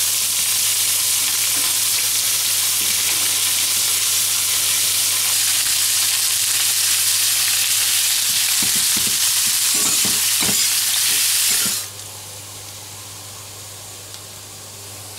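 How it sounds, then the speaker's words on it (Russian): Onion, ginger and red chili pepper frying in a pan, a loud continuous hiss of oil with occasional scraping stirs, the sizzle dropping sharply near the end. "Все обжарил до красивого золотистого цвета."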